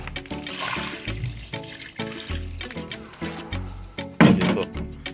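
Water is poured and splashed over salt fish in a pot for an outdoor brown stew, uneven gurgling pours and trickles with bumps and clatter, close, with faint talk around.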